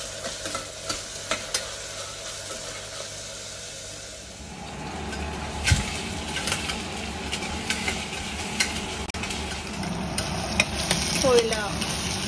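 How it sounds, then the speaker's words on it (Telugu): Mutton and onions frying in a pan, a steady sizzle with stirring scrapes that grows louder and denser partway through, continuing alone without talk. "కలిపి దీన్ని బ్రౌన్ కలర్ వచ్చేటట్టుగా వేయించాలి."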